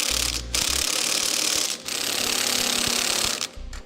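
Ratchet snugging down trailer hitch receiver bolts on a 1995 Jeep Cherokee, loud rapid clicking pawl sounds running nearly continuously with brief pauses between strokes, close and unaccompanied by talk.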